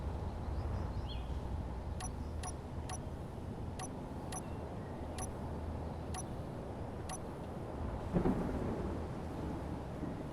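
A thunder-like crash rumbles through the video game Space Engineers near the end, rising over a steady low roar of game ambience marked by faint regular ticks.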